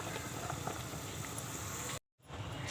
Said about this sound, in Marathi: इथे कुकरमध्ये मी पाणी गरम करायला ठेवलं आहे. पाणी गरम झालं आहे.